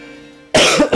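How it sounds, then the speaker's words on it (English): One harsh, loud cough bursts out abruptly after a quiet stretch, followed by a short second rasp. "Can't get rid of this cough."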